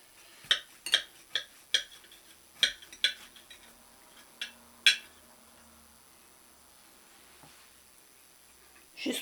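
A knife cuts through a warm, soft raisin cake, giving a series of light, sharp clicks and taps of the blade on a plate or board at irregular intervals, close and quiet, then near silence.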